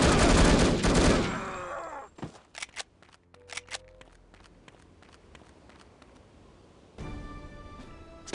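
Gunfire in the video game No One Lives Forever: a loud blast up front, then a rapid scatter of sharp, close shots and clicks that thin out, before a sustained tonal game sound swells near the end.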